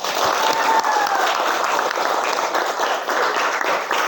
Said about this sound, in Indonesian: Beri tepuk tangan untuk Yohan.